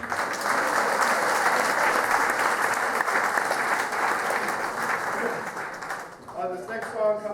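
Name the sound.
audience applause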